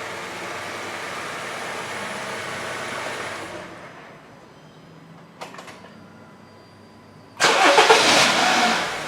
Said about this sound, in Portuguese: Vamos dar outras partidas aqui para ver qual vai ser a queda que ele vai registrar